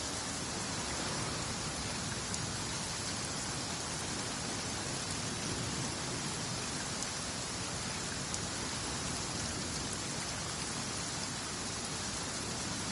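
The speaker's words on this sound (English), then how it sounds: "it does actually rain in the desert on occasion. And when it does, it's always a lot heavier than this." Steady, even rainfall in the desert of the video game Genshin Impact, a continuous broadband hiss of rain with no breaks, moderate and uniform throughout.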